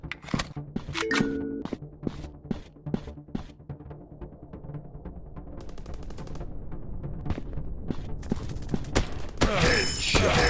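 Gunfire in the Counter Terrorist FPS Shooting game: a string of sharp, separate shots that gives way to sustained automatic bursts and mechanical clunks, loud and close.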